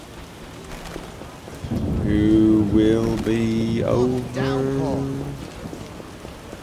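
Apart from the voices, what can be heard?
rain and thunder in video game The Witcher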